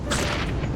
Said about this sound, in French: Hop là la grenade.